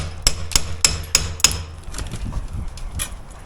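Five sharp hammer blows on brick during lintel replacement work land at a steady, even rhythm, loud and close, followed by quieter scraping and clattering of tools.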